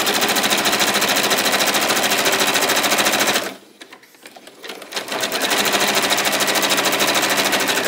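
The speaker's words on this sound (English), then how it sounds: "so we can get on to the top stitching, and that'll be the last step and this quilt will be done" A sewing machine top stitches the binding on a quilt, a loud, steady rapid whir of needle strokes that pauses briefly midway, then resumes at full speed.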